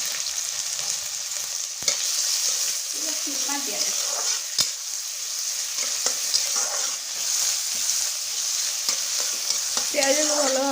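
Onion fries in a pan for egg keema masala, with a steady close sizzle, occasional sharp spatula knocks and scraping stirs throughout.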